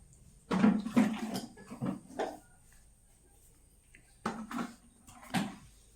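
Water splashing as a kitchen floor is washed during flood cleanup: a few irregular sloshing splashes in two bursts separated by a quiet pause, fairly close, no talk.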